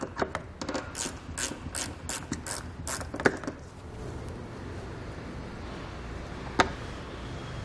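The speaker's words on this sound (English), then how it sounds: "we can take our T15 Torx bit and get this fastener removed" A ratchet driving a T15 Torx bit to remove a trim fastener on a 2020 vehicle's rear fascia during a hitch install, giving rapid close clicking bursts in the first half, then quieter background with an isolated click or two.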